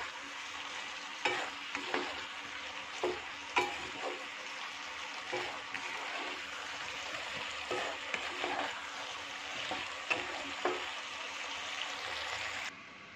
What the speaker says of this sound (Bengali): তো এটা আমি ভালো করে কষে নিয়ে আসছি।